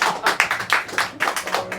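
Audience applause at the close of a comedy talk show, a short burst of close, loud claps with uneven rhythm and a faint voice in the background.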